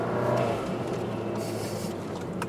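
A VW GTI with an aftermarket intercooler revs hard and then lets off the throttle, its engine note filling the cabin steadily and close for a couple of seconds with no talk.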